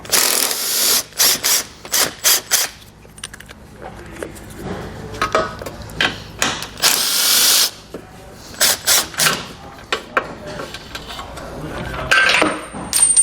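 A ratchet wrench removes bumper beam screws on a 2017 Audi Q, making rapid bursts of sharp metallic clicking separated by short pauses, close and loud.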